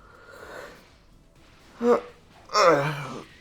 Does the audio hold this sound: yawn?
yes